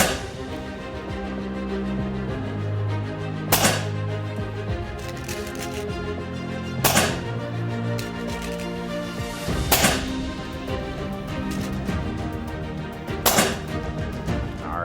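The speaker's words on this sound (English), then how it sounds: "shoot 5 shots to give us an idea of accuracy" A Daystate Red Wolf Laminate HP air rifle fires five sharp, close cracks, spaced roughly three seconds apart, each a brief snap over a faint background hum with no talking.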